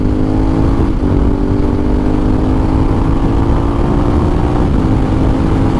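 A BMW R1250 GSA adventure motorcycle accelerates hard, its engine droning loud and steady with a rising pitch under heavy wind rush, heard close from the rider's position.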